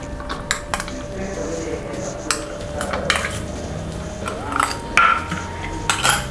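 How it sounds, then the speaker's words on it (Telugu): A bowl handled on a kitchen counter as chopped onions go in, scattered close clinks and taps of dishware and utensils with faint soft rustling, over a low room hum. "ఒక బౌల్ తీసుకుని దానిలోకి ఆనియన్స్ వేసుకోవాలి"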